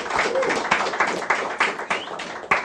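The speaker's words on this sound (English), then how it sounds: "Please, let's give them a round of applause." An audience at a launch event applauds, with a dense patter of hand claps and sharper individual claps standing out. The applause is moderately loud and fairly close, and it rises and dips slightly over a few seconds.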